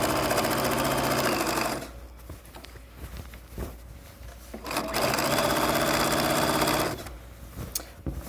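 A sewing machine runs a straight stitch along a pillowcase seam, holding down the seam allowance, in two loud steady bursts with a quieter pause between them.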